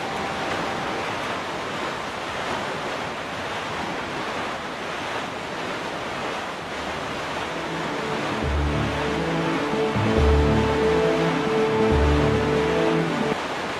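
A sailboat crosses the open ocean in the video game The Wind Waker, with a steady wash of wind and surf. Low, rhythmic tones join in over the final few seconds.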